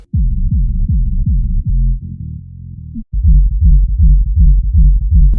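Deep, booming sub-bass thumps from hardstyle kick drums, low-passed so only the low end remains, pulsing in a steady rhythm with a brief dropout midway.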